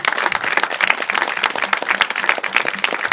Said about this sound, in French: applaudissez-le déjà